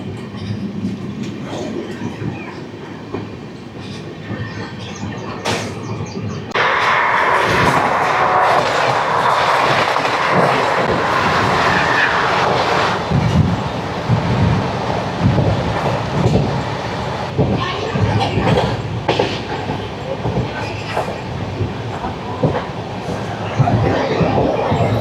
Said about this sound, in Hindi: पहाड़ों के बीच से ट्रेन निकल रही है